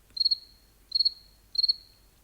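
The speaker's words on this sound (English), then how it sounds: "Cricket," A cricket chirps in three evenly spaced bursts of rapid trills, each a clear high pulse train, faint and alone against near silence.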